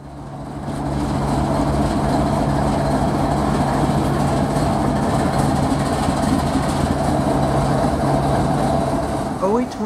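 CSX freight train O823, a daily local known as the Juice Train, rumbles steadily with a low engine drone and rail noise, loud and continuous throughout.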